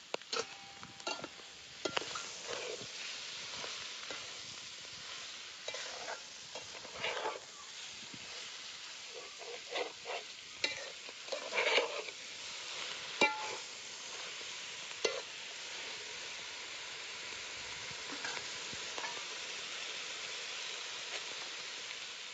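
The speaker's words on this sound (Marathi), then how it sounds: "मीठ टाकून चांगलं मिक्स केलं" Vajri dal stirred in a pot after salt goes in, giving soft scraping and clicking strokes over a low, steady sizzle, with brief louder bursts spread unevenly through the stretch.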